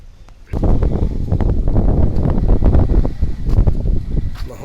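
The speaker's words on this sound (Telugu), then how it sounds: "గోదావరి చల్లటి గాలి వేస్తుంది" Cool wind blowing over the Godavari river, buffeting the microphone in loud, gusty rumbles that rise abruptly after a quiet opening and continue unevenly.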